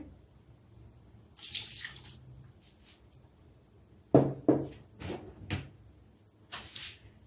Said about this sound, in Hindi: ये आधा गिलास पानी का है, ये डालेंगे।